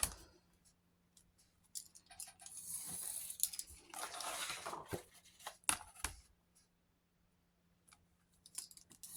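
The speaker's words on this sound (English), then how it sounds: "I'm going to cut these ladies out." Scissors cut printed paper figures of ladies out of a sheet at a craft table, giving close, irregular snips and crinkly paper rustles in bursts, with quiet pauses between and no talking.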